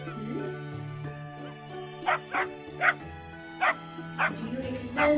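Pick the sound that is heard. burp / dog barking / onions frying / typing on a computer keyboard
dog barking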